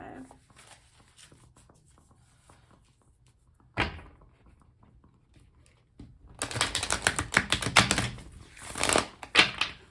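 Large tarot cards are shuffled in small hands, a quiet rustle followed by one sharp knock, then a longer burst of dense riffling flutters and slaps up close.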